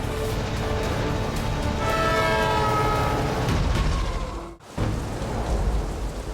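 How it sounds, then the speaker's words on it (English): A train rumbles past close by on a Canadian highway rail line, its horn sounding in steady sustained tones over heavy continuous noise, which briefly drops out near the end. "We got trains coming."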